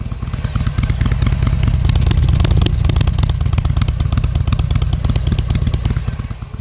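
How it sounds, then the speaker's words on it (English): A 2007 Harley-Davidson Sportster 883 (XL883), low-mileage and mechanically stock, idles with a steady, loud, close-up engine rumble and rapid clattering beats throughout, with no talk over it. "Listen to this thing rumble."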